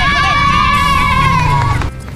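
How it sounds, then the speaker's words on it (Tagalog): Children run and shout at a town fiesta, a loud crowd of excited young voices and scuffling footsteps close by, with a sustained shrill call running over the busy din before it drops off. "Wala pa rin katapusang takbuhan, hiyawan, harutan."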